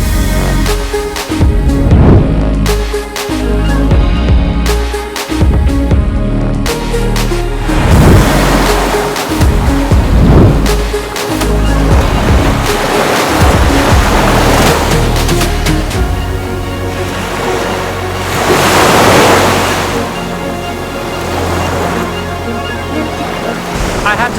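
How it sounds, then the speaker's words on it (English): Open ocean surf on Playa Bacocho beach in Puerto Escondido, Mexico, a loud, continuous roar of breaking waves mixed with strong wind buffeting the microphone. "it's the open ocean, which means that the waves are very,"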